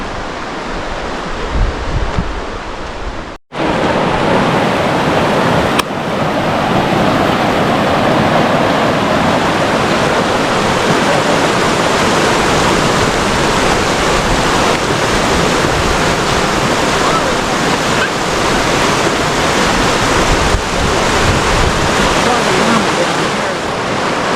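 Steady, loud rushing water fills the scene, a continuous broadband wash like a fast-flowing creek close by, briefly interrupted near the start.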